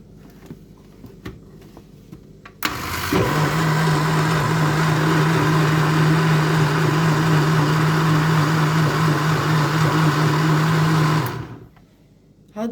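A blender whirring through coconut milk starts abruptly and holds a loud, steady motor drone with a fixed low hum for about eight seconds, then cuts off. Quieter kitchen background sounds come before and after it.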